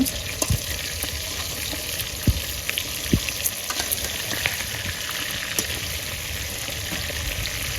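Chicken pieces fry in mustard oil in a pan for a Bihari-style chicken dish, giving a steady, close, loud sizzle with scattered sharp pops and light clicks throughout, no talk.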